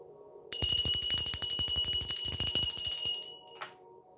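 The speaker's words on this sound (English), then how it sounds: "I'm going to ring the bell." A bell rung rapidly and continuously for about three seconds, with loud, close, bright metallic strikes. One last short ring follows after a brief gap, with no voices.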